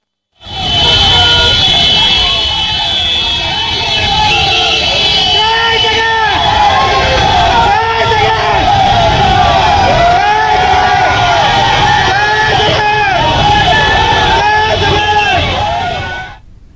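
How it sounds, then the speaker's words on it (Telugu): Party workers' car and motorbike rally leaving Begumpet airport in Hyderabad, a dense, continuous roar of engines with repeated blaring horns and crowd hubbub, loud and close. "బేగంపేట విమానాశ్రయంలో జగన్ కు స్వాగతం పలికిన కార్యకర్తలు అక్కడి నుంచి కార్లు బైక్లతో ర్యాలీ"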